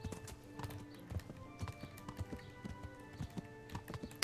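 Rhythmic clip-clop of horse hooves on a road in the medieval game Kingdom Come: Deliverance, steady repeated footfalls close by with a few faint extra knocks, no talking.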